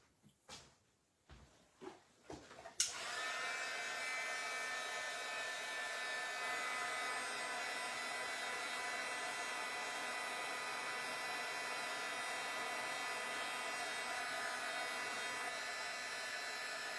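A hair dryer blows continuously at close range over a shiny coating still drying, a steady broadband whoosh after a few brief knocks and clicks at the start.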